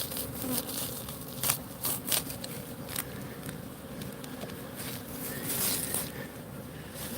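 Honeybees swarm around an opened hive with a dense, close, continuous buzz, broken by a few soft knocks and scrapes as the frames are handled.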